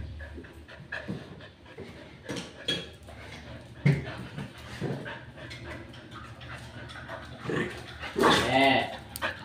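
Pet dogs play together at home, panting, giving short barks and whimpers in bursts, with people's voices heard now and then in the background.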